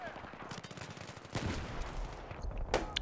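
Rapid gunfire from the video game Battlefield 3 multiplayer, bursts of automatic shots and sharp cracks with a loud impact midway, dense and close under a busy battle background.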